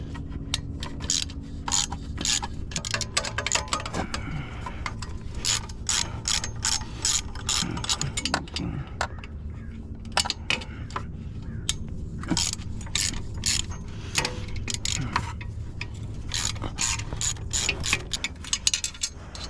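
A hand ratchet works the exhaust bolts loose on a 2024 Yamaha MT07, a rapid run of crisp clicking strokes in repeated bursts, close and steady, with faint workshop scraping and no talk.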